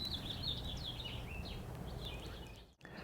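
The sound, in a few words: birds singing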